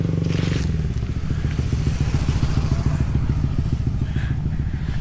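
Motorcycle ridden by a father, a close, steady chugging engine putter with rapid regular firing pulses and some rattling clatter over it.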